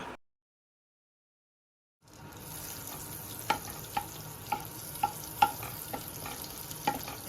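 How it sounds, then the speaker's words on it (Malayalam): Butter melting and sizzling in hot oil in a non-stick pan, a steady frying hiss with occasional sharp crackles and pops, close and alone after a brief silence. "ഒരു കഷ്ണം ബട്ടർ ഇട്ട് കൊടുക്കാം"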